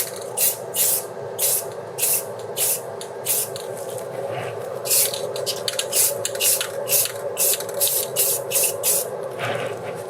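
Aerosol paint sprayed in short repeated bursts onto a hobby model, close hissing puffs with brief pauses between them over a steady background hum.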